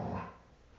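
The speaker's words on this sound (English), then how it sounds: "now my dogs are going to wrestle." A brief low growl from big dogs wrestling, a white boxer and a Rottweiler-boxer mix, loud at first then fading within a second.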